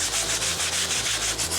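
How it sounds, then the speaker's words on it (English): A stiff bristle brush scrubs the suede midsole of an Ugg boot in quick, even back-and-forth strokes, a close, loud rasping rub repeating about five times. "give that a light scrub using a stiff bristle brush"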